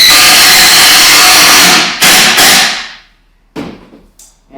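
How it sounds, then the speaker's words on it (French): Screws being driven into a wooden wall frame during wall assembly: a loud, continuous power-driver whir for about two seconds, two short bursts, then a quieter brief final burst after a pause. "je vais visser l'intérieur"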